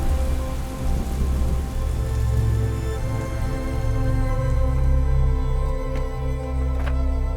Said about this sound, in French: des trompes de pluie commencent à tomber